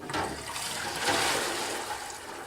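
Water rushes steadily through a silt fence fabric during a flow test, a continuous close hiss and splash that briefly swells partway through.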